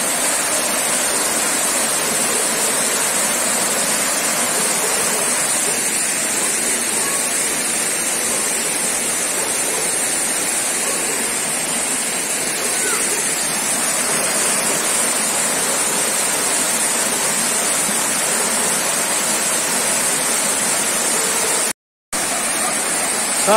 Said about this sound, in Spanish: estamos en la cascada Siloé